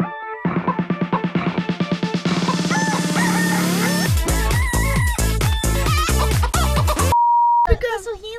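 A loud, busy song built from chicken clucks and a rooster crow, rhythmic and layered, with electronic tones mixed in.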